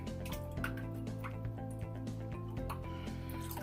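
Shaving brush soaking in a bowl or tub of water, with steady close dripping and trickling over a droning hum that carries pitched tones throughout.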